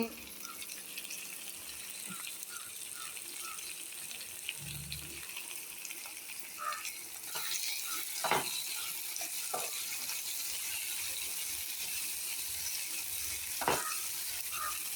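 Tomatoes frying in a pan for chicken curry, a steady sizzle running throughout with a few scattered clicks and knocks from stirring.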